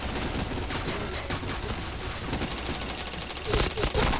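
Rapid bursts of gunfire from the video game Point Blank crackle densely and loudly throughout, with a voice talking over the shots.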